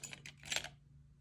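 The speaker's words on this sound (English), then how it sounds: "Pop some keys in there." Keys drop into a small supple leather YSL handbag, giving a quick, faint metallic jingle of a few light clinks, close and isolated.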